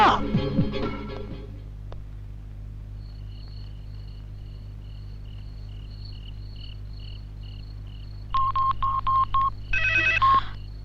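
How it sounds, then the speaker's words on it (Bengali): A telephone rings twice late at night in a Bangla film scene, two bursts of electronic trilling close by over a steady low hum and crickets, after a brief noisy stretch at the start. "হ্যালো আবির এত রাতে ফোন করেছো কেন"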